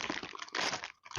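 A bag of Big Chips spiced cheese chips is torn open, with a brief, close, quiet crinkling and crunching of the plastic packaging in a few quick bursts.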